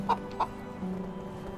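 Hens cluck in the medieval farming game Medieval Dynasty, two short, soft clucks close together over a low, steady background hum.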